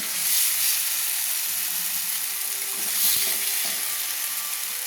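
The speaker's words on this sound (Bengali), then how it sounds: "মশলার সঙ্গে ভালো করে কষিয়ে নিচ্ছি" Eggs and spice paste frying and being stirred for egg kosha, a close steady sizzle with scraping stir strokes and a brief clatter, no talk.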